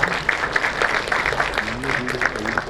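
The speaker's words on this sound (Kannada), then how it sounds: "ಅವ್ರಿಗೊಂದು ಚಪ್ಪಾಳೆ" An audience at a film trailer launch event applauds the director, a brief burst of dense clapping from a crowd indoors, close and lively.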